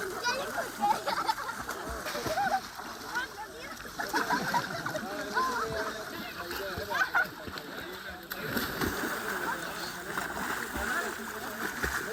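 People and children bathe together in a river near an ashram, with irregular splashes and sloshing water mixed with busy overlapping voices and children's chatter for the whole stretch, nearby and moderately loud.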